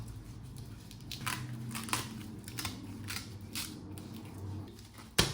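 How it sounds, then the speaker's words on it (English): A sheet of nori seaweed being broken in half for hosomaki sushi, giving soft dry crackles and snaps close by, ending with one sharper crack. "alga, nori, seaweed. I'm gonna break in half."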